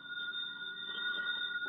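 A telephone rings steadily for under two seconds in an old radio crime drama, a sustained electronic ring with no talk over it.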